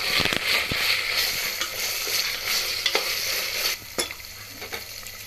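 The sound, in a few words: ginger garlic paste frying in a pan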